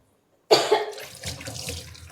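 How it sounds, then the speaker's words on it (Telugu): Water splashes into a pot of country chicken curry in a short, sudden burst after silence, then trickles and bubbles unevenly. "ఇప్పుడు వాటర్ యాడ్ చేసుకుంటున్నాను"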